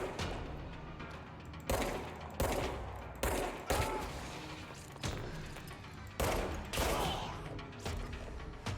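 Gunfire in a video game sounds in repeated heavy bursts, loud booming shots spaced a second or so apart over a dense, noisy backdrop with no talking.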